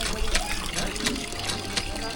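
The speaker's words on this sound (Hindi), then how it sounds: "पानी इस हैंडपम्प में भी भरपूर है" Water gushes from a hand pump at an old home in Hyderabad in a strong, continuous splashing flow. A voice talks over it.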